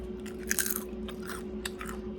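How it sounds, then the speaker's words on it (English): A crispy air-fried Brussels sprout leaf bitten close up, giving several sharp, dry crunches in quick succession, alone against a faint steady background hum. "Listen to the crunch."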